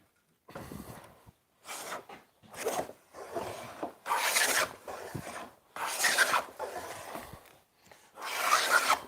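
A hand plane takes shavings off a piece of timber in about seven rasping strokes, each a brisk scraping rush separated by short pauses, close and alone.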